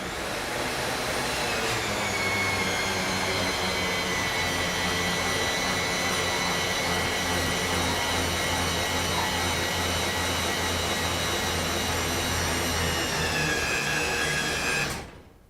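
A remote racking motor drives a GE Magne-Blast circuit breaker in, a steady loud mechanical whine with a low hum that runs unbroken for about fifteen seconds, then cuts off abruptly as it stops.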